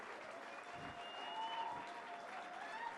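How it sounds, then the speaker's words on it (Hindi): Audience at a Lit Chowk literary event in Indore claps in a steady, fairly faint patter for a few seconds, with no voices over it. "तालियां थोड़ी कमजोर थीं।"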